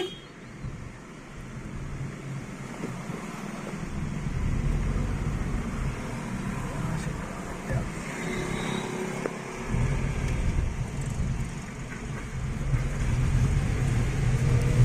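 A Nissan Magnite car being driven and swung through a U-turn while checking its steering return, with steady road and engine rumble filling the cabin throughout and no speech over it.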